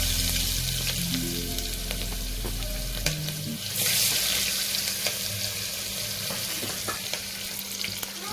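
Chopped onion frying in oil with turmeric and garlic for Maharashtrian masala rice, a steady close crackling sizzle throughout, with stirring scrapes and a low hum during the first few seconds.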